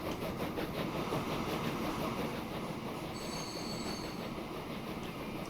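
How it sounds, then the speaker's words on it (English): Train running in the video game Transport Fever 2, a steady loud rumble of rolling wagons with a brief high wheel squeal partway through, heard alone without talk. "There we go, the first train"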